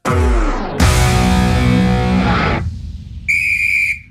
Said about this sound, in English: Ref's whistle.